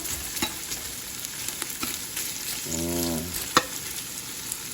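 Steady sizzle of ingredients sautéing in a hot pan over medium heat for pinapaitan, a soft continuous frying hiss with a few light clinks of stirring.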